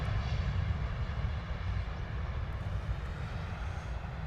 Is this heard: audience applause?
no